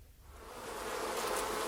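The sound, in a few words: wasps buzzing, story sound effect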